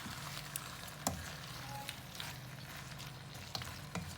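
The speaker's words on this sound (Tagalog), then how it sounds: "Haluin lang po natin hanggang kumapit po sa hipon yung lasa ng itlog na pula." Shrimp frying in a pan with salted egg yolk for garlic butter shrimp, a steady, quiet sizzle with several sharp clicks and scrapes from stirring against the pan.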